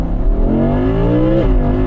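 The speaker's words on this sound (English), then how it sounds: "Here we go, under load, high gear, forward. Oh! Such a great noise" An Audi R8 Spyder engine revs hard under load in a high gear, a loud, close, rising mechanical howl that climbs steadily in pitch before easing briefly near the end.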